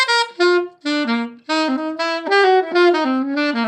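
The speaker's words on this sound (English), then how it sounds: "The first lick is a blues lick that I learned many years ago." Saxophone playing a short blues lick in a jazz style, a phrase of distinct articulated notes with brief gaps, close and clear, solo with no talking.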